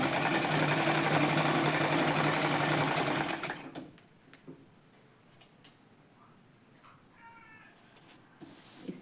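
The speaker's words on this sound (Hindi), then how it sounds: "हम यहाँ पर थोड़ी बड़ी स्टिच लगाएंगे।" A sewing machine runs fast and steady for several seconds while stitching fabric held over a foam sheet, then stops, leaving a quiet room with faint ticks and a brief meow.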